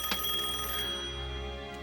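A telephone rings with a bright metallic bell tone that starts with a sharp strike and fades out over about a second, with a faint second strike near the end.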